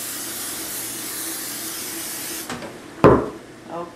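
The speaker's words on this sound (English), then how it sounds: "Just spray it nicely over." Oil being sprayed from a can onto baking trays, a steady hiss lasting a few seconds that stops abruptly, followed by a brief clatter and soft handling noises.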